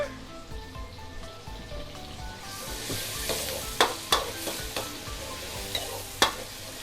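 Garlic stir-fried in hot oil for a shrimp and vegetable dish, a steady close sizzle with sharp spatula scrapes and clinks against the pan, louder in the second half.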